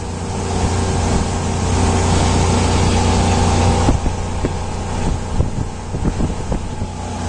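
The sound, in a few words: 1999 Sea Ray 270 Sundancer boat engine running at speed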